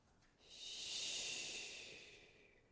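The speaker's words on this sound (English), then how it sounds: "Really use the strength of the exhale, maybe that vocal S breath to squeeze" One long, forceful hissing S exhale during a yoga flow, swelling then fading over about two seconds, close and breathy, with no talk.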